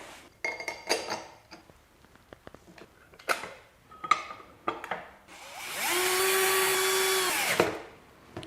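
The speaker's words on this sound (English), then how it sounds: "Put this back in the biscuit joiner and try it out." A modified biscuit (plate) joiner with slightly ground-down cutter teeth spins up and cuts a slot, a loud steady whine lasting about two seconds before winding down, preceded by scattered clicks and handling knocks.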